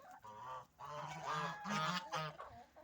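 Several geese honk repeatedly at close range, nasal calls overlapping in quick bursts with brief gaps between them.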